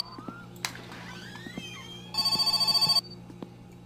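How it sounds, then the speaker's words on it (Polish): A telephone rings in the video game My Summer Car: one burst of rapid electronic bell pulses, clear and moderately loud, set among quiet in-game clicks, knocks and a brief sliding whistle. "Telefon."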